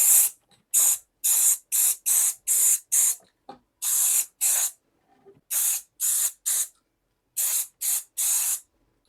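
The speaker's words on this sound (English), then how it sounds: "I'm going to spray the blade here with some lithium grease" Repeated short bursts of aerosol lithium grease spray onto a rusted hedge trimmer blade, about fourteen hissing blasts of roughly half a second each, separated by brief pauses, close and loud with no talking.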